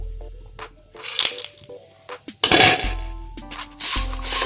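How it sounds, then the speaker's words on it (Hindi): Cashews drop into a pan of vermicelli frying in ghee, bringing loud close clinks and scrapes of metal cookware with a few rattling bursts and a brief sizzle in between. "अब इसमें हम काजू डाल देंगे"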